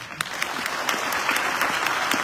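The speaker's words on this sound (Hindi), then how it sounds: "ताली बजाओ" An audience claps for guests at a Hindi-language talk, a full and brisk burst of applause with sharp individual claps standing out from the steady roar, loud and close from start to finish.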